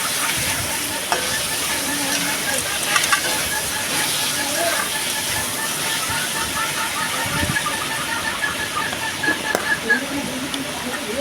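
Ginger-garlic paste fries in a pan of oil for a chicken curry, giving a steady close sizzle with occasional stirring scrapes and knocks.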